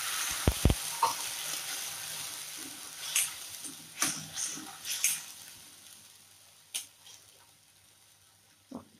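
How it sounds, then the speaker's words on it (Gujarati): Water poured into a hot pan of turmeric and Kashmiri red chili, giving a sizzling, frying hiss with several sharp crackles and clinks spread across the stretch, heard up close with no talking. "એટલે તરત જ આપણે પાણી એડ કરીશું"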